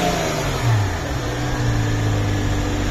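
A Hyundai Coupe with a 2.7 V6 engine and six-speed manual gearbox revs briefly, its pitch rising then holding steady as a cooling fan runs underneath, heard close up.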